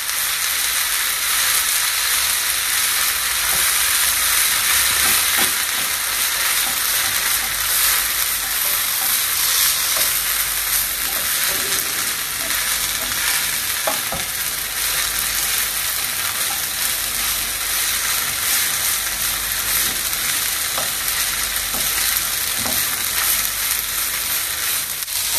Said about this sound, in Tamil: ஓகே, இப்போ தேங்காய்ப்பு நல்லா வதங்கி வந்துடுது.